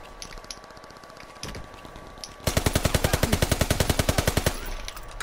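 Submachine gun fire in Call of Duty WW2 multiplayer: a rapid, steady burst of about twenty loud, evenly spaced shots following quieter scattered game sounds.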